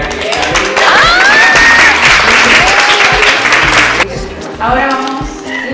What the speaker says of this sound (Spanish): Por favor, ¿se puede dar un aplauso a Alex, Andrea y a Alex?